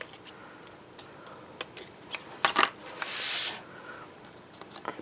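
Scissors snip through Graphic 45 patterned paper in a series of quiet, close clicks and slicing strokes, with a longer rustling cut partway through and no talking.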